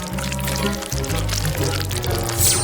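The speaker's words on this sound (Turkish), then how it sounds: "Bu sıvıyı bardağa dökeceğim." Food-coloured liquid for a lollipop is poured into a glass in one continuous, close stream lasting a few seconds, with faint speech in the background.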